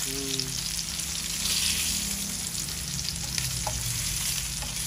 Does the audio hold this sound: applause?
no